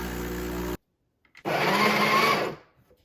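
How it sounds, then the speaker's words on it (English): A home espresso machine grinds fresh espresso beans in a loud, steady whir lasting about a second, after an earlier burst of motor hum and a short pause, then winding down. "I'll grind up some fresh espresso"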